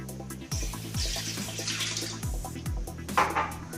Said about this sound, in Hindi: इसमें 1 कप पानी डालते हैं।